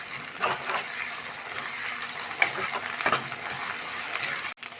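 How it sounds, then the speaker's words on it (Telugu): Ginger paste frying with onions in a home kitchen pan, a steady hiss of sizzling oil with faint stirring scrapes and a few light clinks, ending with a brief sharp knock. "అల్లం ఫేట్ అయితే వేగిపోయింది కాదు ఫ్రెండ్స్"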